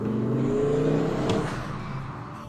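A Ford Focus ST engine with a misfire fault running close by, a steady low droning note with a slight rise then easing off, loud and alone.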